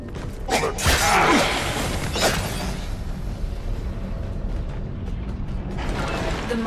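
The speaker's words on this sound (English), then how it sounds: "Mining equipment is nearby. It must be destroyed to prevent the Grineer from developing energy weapons." Grineer mining machinery in the Warframe video game grinds and creaks with ratcheting mechanical bursts over a steady low industrial rumble, louder early on and then droning on.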